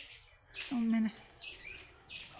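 Mynas and a woodpecker around a home chirp in bright, brief bursts scattered through the moment, alongside a short low voiced sound and faint background noise.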